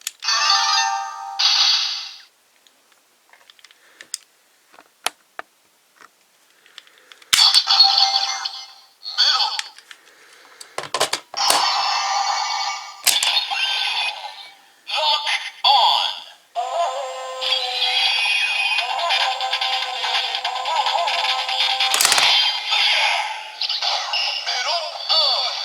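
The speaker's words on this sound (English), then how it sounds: "there we got the transformation sound for Melon Arms" Kamen Rider Zangetsu Melon lockseed toy plays its electronic Melon Arms transformation sound: bursts of synthesized chimes and voice-like tones, then a long sustained loud jingle near the end.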